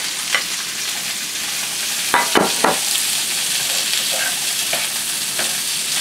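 Bell peppers frying in a pan with onions and ginger: a steady close sizzle with a few sharp clatters of stirring around the middle, no talk.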